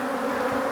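Close, steady buzzing of many honey bees in an open hive, a continuous droning hum with no pauses.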